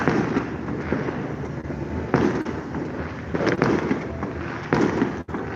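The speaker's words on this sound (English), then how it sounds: "Those are not gunshots. Those are fireworks." Neighborhood fireworks going off on New Year's, a dense, continuous stretch of crackling bursts and booms with several louder peaks, some from farther away, heard alone without talk.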